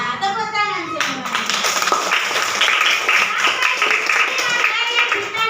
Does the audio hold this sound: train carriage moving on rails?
no